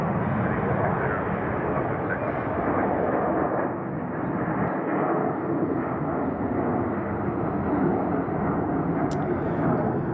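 A Delta airliner takes off at Salt Lake City International Airport, its engines making a loud, steady, broad roar that continues without a break through the whole stretch.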